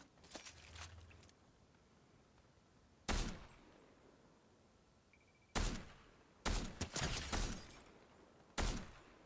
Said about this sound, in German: Ich, ich höre da Schüsse, passt auf.